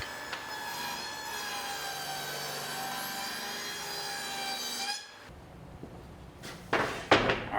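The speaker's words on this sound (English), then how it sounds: "we're going to switch over to a 1/4 inch wide dado blade, or this could be done with a 1/4 inch wide router bit, and cut a groove" A table saw fitted with a quarter-inch dado blade cuts a groove in wood, giving a steady, loud whine for about five seconds before it winds down, followed by a few sharp knocks and clatters.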